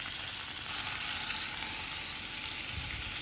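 Steak searing in a hot pan gives a steady, close sizzle with a crackling spatter that holds at an even level throughout, with no voices.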